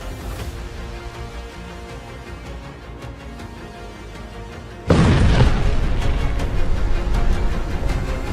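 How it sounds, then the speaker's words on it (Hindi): An explosion in southern Lebanon during the Israel–Hezbollah fighting: after a low background hum, a sudden heavy boom erupts and settles into a loud, sustained rumbling roar. "धमाका नंबर 2"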